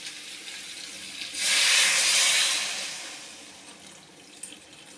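Water poured into a hot pan of cauliflower and egg curry sets off a sudden loud hiss and sizzle of steam that swells, then slowly fades to a quieter simmer, with no voices.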